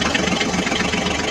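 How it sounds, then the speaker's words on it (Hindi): A Ford tractor engine idles in a brief stretch, giving a constant, loud, rough chugging rumble with no voices over it. "चलो चलो ड्राइवर, अब ट्रैक्टर गाड़ी को आगे लेकर चलो।"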